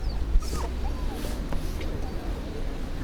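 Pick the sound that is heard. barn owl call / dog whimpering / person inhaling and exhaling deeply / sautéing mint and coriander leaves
dog whimpering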